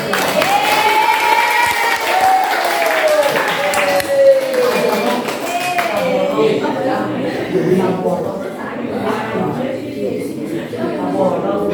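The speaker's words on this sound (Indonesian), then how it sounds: "tepuk tangan dulu" A classroom of senior high school students applauds the winners of an ice-breaking game: a steady wash of clapping that lasts the whole stretch, with voices calling and chattering over it.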